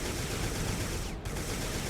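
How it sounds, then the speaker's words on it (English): In the video game Recoil, a sonic cannon fires a steady, dense wash of noise that hardly pauses, broken only by one brief dip partway through. "Switch back to my sonic cannon."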